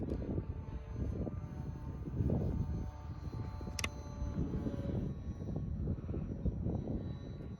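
An RC Carbon Cub S2 model airplane makes a low, slow flyby at a little under half throttle, its steady engine drone rising and swelling as it passes nearby outdoors.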